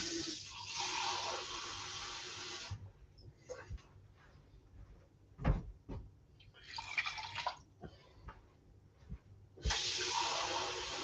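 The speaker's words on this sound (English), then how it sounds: "I'll just add the 2 cups of water." Two cups of water poured into a pot over medium-low heat for cinnamon porridge with mandarin, heard as a steady close pour in three separate bursts with quieter clinks and handling noises between them.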